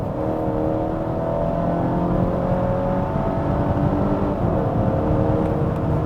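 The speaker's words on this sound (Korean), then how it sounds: "지금 현재 시속 90km인데요. 살짝 가속 페달을 세게 꾹." A Volvo XC60 B5 at 90 km/h accelerating hard, its engine drone rising steadily as a loud, continuous interior roar with rising engine tones and no talk over it.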